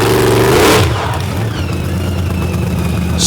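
A freshened-up monster truck engine revs hard during a stunt run in an Ohio arena, one loud roaring burst that drops to a steady, rumbling drone.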